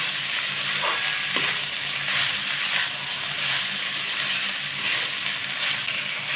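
Peas and cauliflower fry in hot oil in a pan, giving a steady, bright sizzling hiss that stays even throughout with a few faint clicks.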